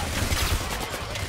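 Rapid AK rifle fire in the heist shooter game Payday: The Heist, a dense continuous fusillade of gunshots close up, with no talk over it.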